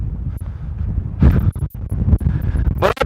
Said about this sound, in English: Jesus, this wind is really, really just, oh my God.